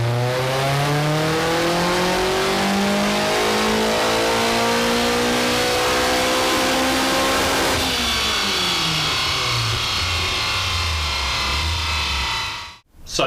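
A race car engine running a 2021 race map on a dyno howls loudly in a long sustained climb through the revs. It then backs off into a lower drone and cuts out abruptly just before the end.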